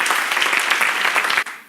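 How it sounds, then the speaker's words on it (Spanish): A church congregation breaks into loud, close, dense clapping that carries on steadily and then cuts off abruptly near the end. "Un aplauso a Cristo Jesús"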